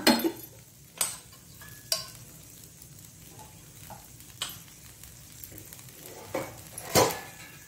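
Ghee sizzles softly on a jowar cabbage masala dosa in a pan, a faint, low hiss broken by a few sharp scrapes and clicks from a spatula, with no speech.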